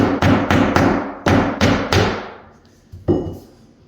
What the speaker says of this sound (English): Basically just putting a nail in there tight to the floor.